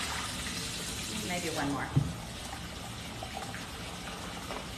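Rice is rinsed in water, with faint sloshing and a single brief splash under a quiet voice, all at low level and close by.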